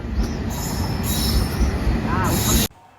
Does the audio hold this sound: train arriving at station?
yes